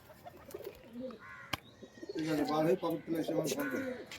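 An Allahabadi breed high-flyer pigeon coos in soft, rolling phrases, close by, mixed with a few chirps and some nearby talk.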